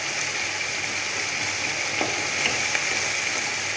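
Onions frying in a pan for chicken curry, a steady close sizzle and crackle with a few light stirring clinks, no talking over it.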